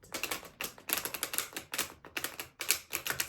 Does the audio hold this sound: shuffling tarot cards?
yes